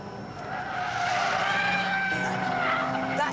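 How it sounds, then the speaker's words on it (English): Mazda RX-8-style rear-wheel-drive car with a Renesis rotary engine sliding its tail out, tires squealing in a sustained whine over the engine note, moderately distant and steady for a few seconds. "That engine really is pretty potent and it has a unique sound. Mazda calls it a Renesis engine."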